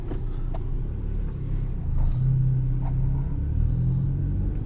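A turbocharged Volkswagen with engine trouble idles while warming up, a low steady rumble close by with no talk.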